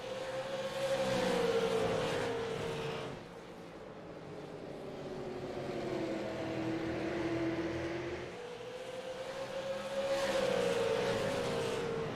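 Race cars at North Wilkesboro roar past on the track, engine pitch rising and falling in long sweeps as they approach and recede, under a steady wash of crowd and track noise.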